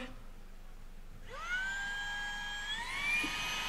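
After a quiet start, a small vacuum cleaner whirs up with a rising whine and settles into a steady, high-pitched drone as it clears away drilling chips from a model railway depot layout.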